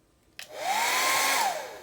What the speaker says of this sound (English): my next tool is a hairdryer. It's going to be loud for a minute.